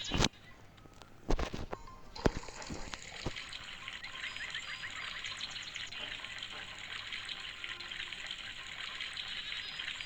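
Water gushes and trickles steadily into a container in the Bangladeshi video game Meena 2, a continuous hissing pour after a few sharp clicks at the start.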